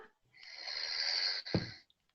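A man snores during a live roast battle comedy show in London: one long, raspy, hissing inhale that swells and holds, followed by a short, deep snort, fairly faint with no talk.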